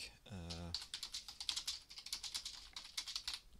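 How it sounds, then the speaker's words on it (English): Rapid clicking of keys on a computer keyboard while entering text for a news story, steady irregular taps close up after a brief low tonal sound at the start. "I'll type in something"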